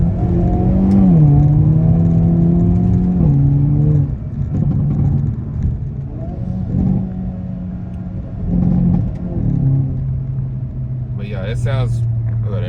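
A turbocharged car with a catless downpipe accelerates hard through the gears, its engine note climbing in rising tones with drops at each shift and a steady rumbling drone, heard from inside the cabin.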